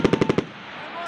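A Marine Corps machine gun at Twentynine Palms fires a short, loud burst of five rapid close shots, then a ringing echo tails off into the open desert.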